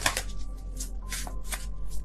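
Tarot cards shuffled by hand in a series of crisp riffling bursts, close and moderately loud, with short pauses between flurries and a steady low hum underneath.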